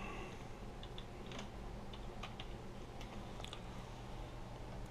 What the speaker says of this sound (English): So we'll go over here and type in etcher.